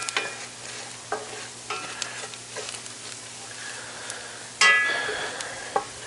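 A tool scraping across a Blacklock cast iron skillet while a dark brown gravy base cooks, rough gritty strokes at a regular pace over a steady sizzle, with one louder scrape near the end.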